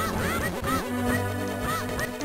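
Several video game ducks quack in quick, repeated bursts over a low droning hum, close and fairly loud.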